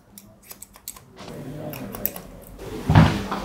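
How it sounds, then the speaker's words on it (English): Barber's scissors trimming the crown of a curly haircut, a series of crisp close snips in irregular rhythm, followed by softer rustling and a louder muffled thump. "I'm just gonna trim the end of the crown."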